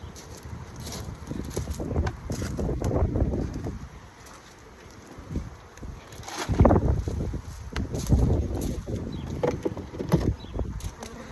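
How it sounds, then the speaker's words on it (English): Gusty wind buffets the microphone outdoors during a beehive inspection, in rumbling surges that rise and fall, with louder blasts in the second half. "it's got really windy all of a sudden"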